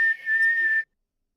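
A voice imitating a referee's whistle, one sustained shrill high whistle with a brief dip early on, close and loud, lasting under a second before cutting off into silence.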